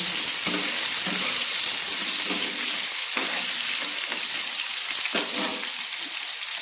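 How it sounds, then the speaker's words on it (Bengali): Potatoes fry in hot oil for a Bengali onion-stalk chorchori, giving a steady, loud sizzle throughout with repeated scraping stirs of a spatula in the pan; no voices. "আমি কিন্তু আলুগুলো একটু তেলে ভেজে নেব।"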